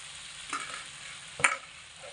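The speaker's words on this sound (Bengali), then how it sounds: "তো এখানে ভেজে রাখা আলু আর ফুলকপি দিয়ে দিচ্ছি।" Fried potato and cauliflower pieces tossed into a pan of oil over medium heat for a cauliflower curry, giving a soft steady sizzle with two stirring scrapes, fairly quiet and close.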